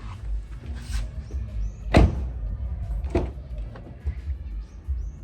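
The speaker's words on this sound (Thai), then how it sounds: "ไหนลองปิดประตูแรง ๆ ดิ" A car door is slammed hard twice, two sharp bangs a little over a second apart inside the vehicle, testing a clip-on trash bin hung on the door panel, with faint cabin noise between.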